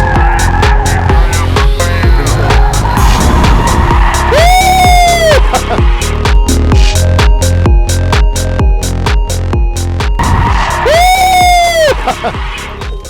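A lowered TOGG car on 22-inch rims drifts and burns its tires, giving two loud rising screeching bursts over a constant roar, while people talk and whoop nearby.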